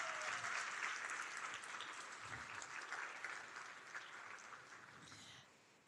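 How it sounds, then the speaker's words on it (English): Steady applause from a crowd, moderately loud and sustained, gradually tapering off before an abrupt louder noise at the end. "Please give her a round of applause."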